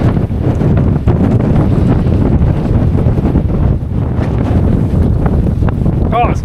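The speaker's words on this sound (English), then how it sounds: "it's turned up quite windy here" Strong wind buffets the microphone on a sailboat deck as the crew lowers the tender, a loud, continuous broadband rush with gusty swells and a faint splash or creak near the end.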